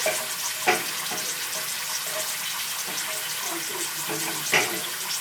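Apios americana tubers frying in a shallow pan with oil, a steady close crackle and sizzle with a few sharper pops along the way.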